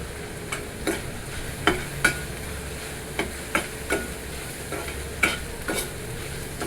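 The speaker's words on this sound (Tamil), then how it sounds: "நல்லா வதக்கிடுங்க" Green chillies sauté in a pan under a spoon, with about a dozen spaced scraping taps over a steady low frying hiss, near and moderately loud.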